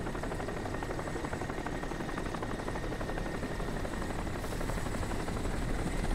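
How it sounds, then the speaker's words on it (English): A helicopter in the video game Crysis thrums with a continuous, loud rotor drone that holds steady throughout, with no talk over it. "nope, the helicopter saw you"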